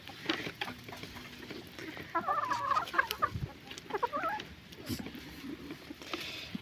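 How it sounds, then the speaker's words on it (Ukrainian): Lohmann Brown hens cluck and chatter softly while feeding outdoors. Several short bursts of calls rise over light pecking and rustling, and the sound stays close but fairly quiet. "Так що їдять курочки, слава Богу, пообідали вони."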